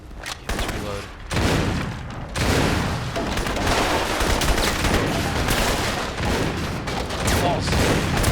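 Gunfire in a video game: dense, continuous bursts of shots and booms filling nearly the whole stretch, loud and close, with talking mixed in.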